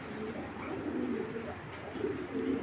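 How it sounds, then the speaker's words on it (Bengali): A racing pigeon kept for breeding coos softly in a loft, a few low, rounded coos repeating at a gentle rhythm, faint and close against a quiet background. "এটা হলো একটা ব্রিডিং সুপার মিলি ব্রিডিং কবুতর"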